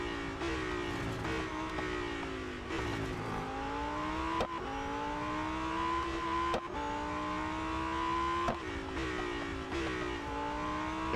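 A Lamborghini Huracan STO engine in the racing game Real Racing 3 revs and shifts repeatedly, pitch climbing then dropping with each gear change, loud and continuous with no talk.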